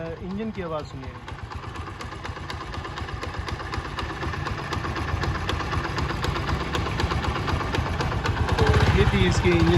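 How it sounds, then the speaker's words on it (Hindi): A 2014 Honda CD motorcycle, ten years old, idles with a steady, close putter and faint knocking vibration, growing slightly louder toward the end, with a brief throttle blip at the start. "ये आप इंजन की आवाज़ सुनिए।"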